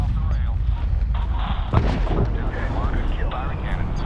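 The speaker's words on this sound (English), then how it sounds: "Firing cannon." Cannon fire in the 2010 Medal of Honor video game, heavy booming rounds layered over a dense, continuous battle din with radio chatter running throughout.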